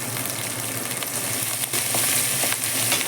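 Grated ginger sizzles in hot tempering oil with mustard seeds, chana dal, urad dal, cumin and curry leaves for coriander rice, a steady dense crackling hiss that stays loud and even throughout with no talking.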